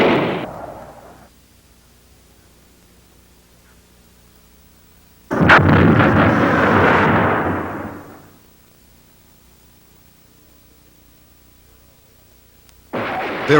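Early Sidewinder missile fired in jet air combat, a sudden loud roaring whoosh that holds for about three seconds and then fades, with a dull blast at the start and another burst near the end, all without speech.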